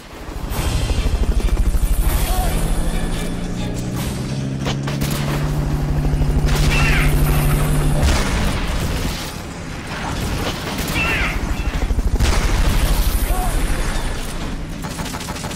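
Rocket launcher explosions in Metal Gear Solid Peace Walker come as loud, dense booming blasts and rumbling over a droning mechanical hum, with bursts of gunfire-like crackle, continuing through the whole passage with a brief dip near the middle.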